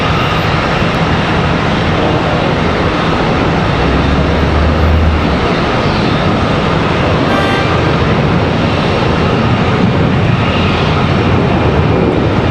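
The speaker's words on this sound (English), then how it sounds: "Now the ERJ 145 departure." Jet airliners at Charlotte Douglas International Airport, with a continuous loud engine roar from a departing regional jet filling the whole stretch, steady and broadband without pauses.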